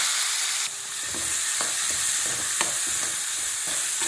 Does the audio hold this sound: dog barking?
no